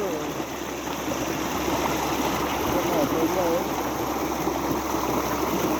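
Continuous water flows and rushes in a stream, close and fairly loud, as a steady broadband wash that barely changes throughout.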